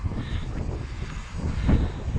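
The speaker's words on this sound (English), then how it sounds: "There's a plane flying and dropping water." A steady low engine roar drones overhead throughout, a distant firefighting airplane dropping water on a forest fire, with a broad rumbling wash of noise.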